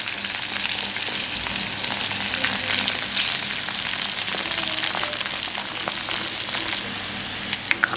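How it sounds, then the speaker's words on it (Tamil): Pieces of cuttlefish deep frying in hot oil make a continuous, busy crackling sizzle with occasional sharp pops and light stirring, close by and steady, no voices. "உங்களுக்கு இப்போ நல்லா பொரியல் வச்சுக்குது"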